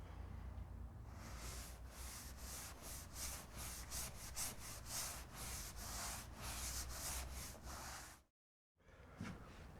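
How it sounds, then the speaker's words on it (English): A damp sponge rubs over plasterboard filler compound in wet sanding, producing repeated soft, close scrubbing strokes in a steady back-and-forth rhythm, briefly cut to silence near the end before resuming. "I'm going to use a dust-free alternative known as wet sanding"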